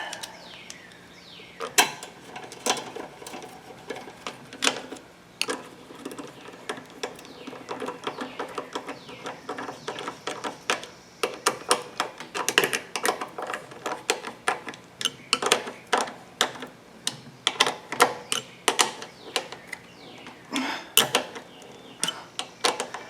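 Ratchet tightening three 5/16 bolts holding the carburetor on an old lawnmower, heard as dense runs of close, rapid clicking strokes in repeated bursts with brief pauses, alone without talk.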